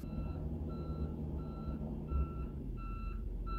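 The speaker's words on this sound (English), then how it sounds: "That is a whole ass forklift right now." Nearby forklift reversing alarm sounds a steady run of evenly spaced electronic beeps over a low engine rumble, heard from inside a car with no talking.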